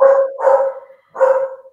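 Small dogs bark in three loud, close bursts, the first two nearly running together and the last after a short pause, with no talk over them.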